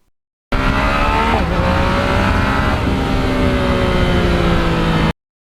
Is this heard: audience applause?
no